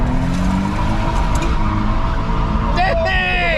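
A Nissan Altima does a clutch-jump launch in first gear at an Altima race meet, its engine rumbling loudly under background voices before a sharp rev and a brief tire screech near the end.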